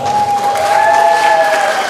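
Sustained applause from an audience at a nursing school diploma and oath ceremony, loud and even, with voices cheering and calling over the clapping.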